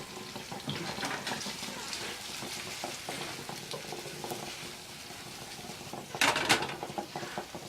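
Eggs fry in a pan with a steady, quiet crackle and bubbling sizzle, flaring briefly louder near the end.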